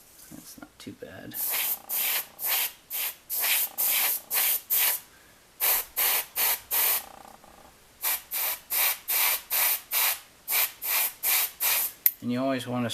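Spray gun laying paint along a masked edge over tape, heard as a long series of short, loud hissing bursts in steady rhythm with brief pauses between groups.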